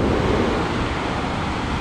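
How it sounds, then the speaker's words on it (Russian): Large ocean waves break on a sandy beach at Sao Pedro de Moel, Portugal, a loud, continuous broadband roar of surf heard from within the water, mixed with wind noise on the microphone. "О, какая большая волна."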